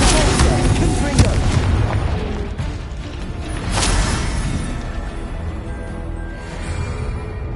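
A dense, roaring blast from the Confringo fire spell in the Hogwarts Legacy video game, with rumbling explosions and crackling impacts rolling continuously and loudly through the whole stretch.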